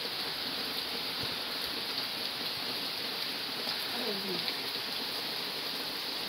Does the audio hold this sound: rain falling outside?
yes